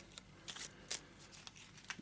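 A deck of spell cards from the board game Eldritch Horror is shuffled by hand nearby, giving soft, quiet riffling and flicking bursts in an irregular rhythm with no talk.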